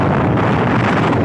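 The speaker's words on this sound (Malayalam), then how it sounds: "അത്രമാത്രം വലിയ കാറ്റാണ് അവിടെ വരുന്നത്." Strong wind buffeting the microphone at Dhanushkodi beach on the India–Sri Lanka sea border, a loud, continuous low rumble with no gaps and no voices.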